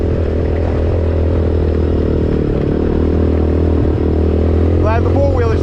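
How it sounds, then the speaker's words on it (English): A four-wheeler ATV engine idling steadily and loud, close by, after riding through a flooded abandoned neighborhood in Southwest Florida, with a brief whine near the end. "Glad the four-wheeler still runs."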